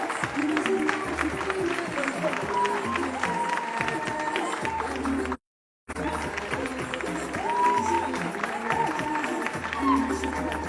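An audience applauds models on a fashion show podium, with steady broad clapping and crowd noise running for about ten seconds and broken by a brief silent gap midway, with some tonal sound beneath.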